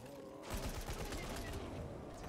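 Gunfire from a weapon in the video game Dying Light 2, a burst of rapid shots with dense crackling reports over a noisy game soundtrack, moderately loud and lasting about two seconds.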